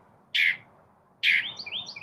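A pet bird chirps indoors, two sharp bright calls a second apart, the second followed by a short run of quick rising tweets, close and clear over a quiet background.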